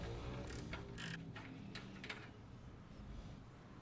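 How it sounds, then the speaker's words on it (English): A ratchet backing a 22 mm nut off the rear of a Toyota 4Runner lower control arm, a few quick clicking bursts close by followed by quieter mechanical rustle against a steady background hiss. "here we are taking that nut off of the back part of the lower control arm."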